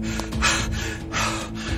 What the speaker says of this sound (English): Finally, he sank to his knees, panting.